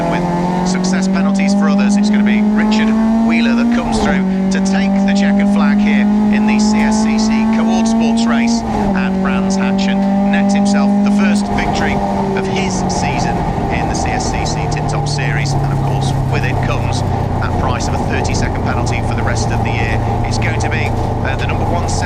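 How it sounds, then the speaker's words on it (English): Renault Clio race cars finish a CSCC Tin Tops race at Brands Hatch, engines loud and near, revving in rising strained pitches with gear changes before fading, while a commentator talks over the noise throughout. "it's going to be Richard Wheeler that comes through to take the checkered flag"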